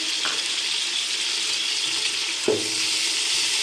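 Tomatoes frying in a pan for beef paya (beef trotters curry), giving a steady, close hiss of sizzling with a soft clink of a utensil midway, no talking.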